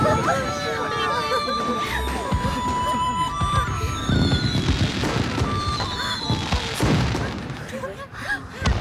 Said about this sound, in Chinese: 这烟花虽好，也是热闹